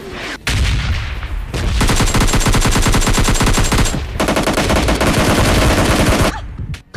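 Loud, rapid automatic gunfire from teammates laying down cover fire in PUBG Lite, continuous bursts over about six seconds with one brief break partway through.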